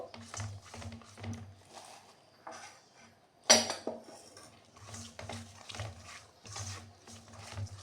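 A spoon mashes ripe jackfruit with sugar in a bowl, making repeated soft, rhythmic scraping and clinking strokes up close, with one louder sharp knock partway through.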